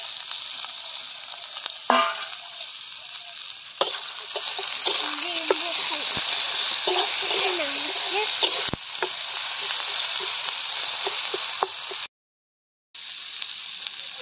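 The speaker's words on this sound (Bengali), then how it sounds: "তেলটা গরম হয়ে গেছে, দিয়ে দিলাম কাঁচা রসুন কুচি, আদা কুচি, পেঁয়াজ কুচি" Chopped raw garlic, ginger and onion hitting hot white oil in a pan, a steady bright sizzle and crackle with occasional stirring, continuing loudly with a brief dropout near the end.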